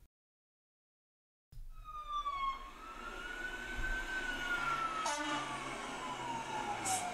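A fire engine heading to a fully involved house fire drives down the road with its siren wailing, the tone sweeping up and down continuously as it approaches and passes, engine rumble underneath, after a brief silent opening.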